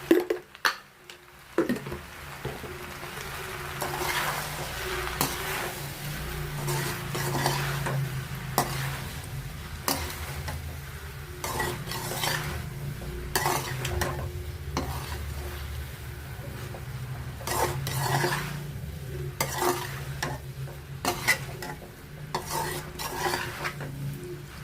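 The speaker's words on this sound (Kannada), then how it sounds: "ಚೆನ್ನಾಗಿ ಮಿಕ್ಸ್ ಮಾಡ್ಕೊಳ್ಳೋಣ." A spoon scrapes and clinks steadily through an ivy gourd stir-fry seasoned with rasam powder in a pan, with soft sizzling underneath and repeated metallic taps, close and without speech.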